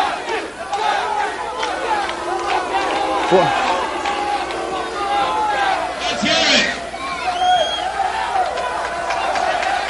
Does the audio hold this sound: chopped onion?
no